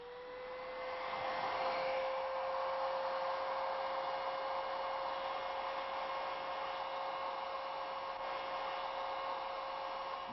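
A hair dryer blows air over a bimetal strip in a physics lecture demonstration, giving a steady, loud whooshing hum with a constant whine that runs unbroken for the whole stretch, with no talking.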